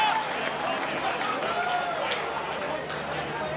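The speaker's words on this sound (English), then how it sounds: "So they're murmuring here after that run." A rugby league crowd at Shark Park murmurs after a big run in a Cronulla Sharks versus Canterbury-Bankstown Bulldogs pre-season match. The broad, steady rumble of many distant voices continues throughout.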